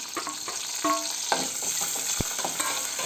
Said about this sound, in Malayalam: ഒരു ഉള്ളി കട്ട് ചെയ്തത് ഇട്ട് കൊടുക്കുന്നുണ്ട് ഇനി ഇതൊന്ന് നന്നായിട്ട് ഒന്ന് വഴറ്റിയെടുക്കണം